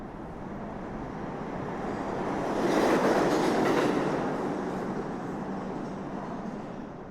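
Budapest metro train riding along, a steady rumbling roar of wheels and carriage that swells louder midway, then eases back, with faint clatter and no talking.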